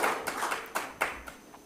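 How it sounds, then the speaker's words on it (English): Scattered hands clap at a technical summit's lamp lighting ceremony, a few distinct claps standing out over a thin, quiet background rather than a full ovation. "Can we please have a huge round of applause for the auspicious lighting of the lamp ceremony?"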